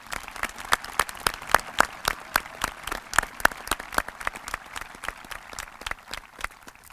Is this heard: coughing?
no